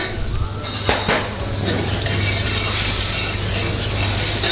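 Steady broadband sizzling of fat in a hot pot, continuous and fairly loud, with a couple of faint clinks of utensils near the start.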